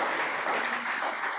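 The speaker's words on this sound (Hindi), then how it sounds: "एक बार ताली होनी चाहिए भी उनके लिए।" Audience clapping at a Jain religious discourse, a dense, even burst of applause from a seated crowd lasting just over a second.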